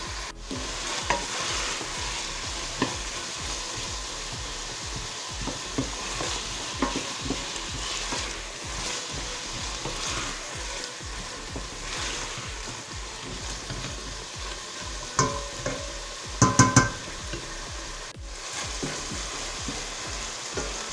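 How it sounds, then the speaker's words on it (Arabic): Turnips and onion sear in a pan, giving a continuous, close sizzle with frequent scraping stirs throughout and a brief cluster of louder clanks near the end, with no voices. "وهنايا ضفت الشلغم اللفت. غنبقى نحرك فيه يتشحر مزيان"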